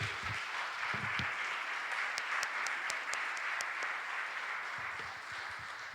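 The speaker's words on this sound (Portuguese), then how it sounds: "Vamos aplaudir o Senhor mais uma vez por isso?" Congregation applauding during a church family retreat service, a steady, sustained wash of clapping from a large room with a few sharp claps standing out, moderately distant.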